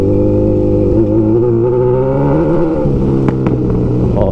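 Motorcycle engine on an off-road trail, a bike fitted with street-leaning tires, loud and close with a steady drone that shifts pitch as the rider works the throttle over rough ground, with brief knocks from the terrain.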